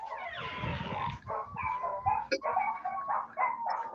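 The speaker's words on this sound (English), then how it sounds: "There goes my dog." A dog barks and yips repeatedly nearby, short excited bursts with whimpering tones mixed in, a few louder barks standing out over the stretch.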